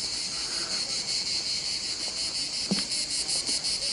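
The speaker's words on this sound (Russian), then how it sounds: "Это все цикады трещат" Dense cicadas chirr without a break in hot, dry weather, a loud, even buzzing drone with a faint pulsing texture and a few soft knocks beneath it, no speech.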